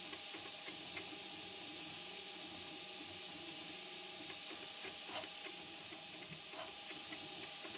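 A Prusa MK4 3D printer fitted with a pellet extruder runs steadily, giving a faint, continuous mechanical hum with whirring stepper motor tones and occasional light clicks.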